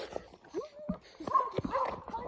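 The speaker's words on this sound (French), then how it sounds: "Les gars, regardez, il y a des chiens sa mère." Dogs in a forest at night, whimpering and yipping in short bursts close by, mixed with people talking.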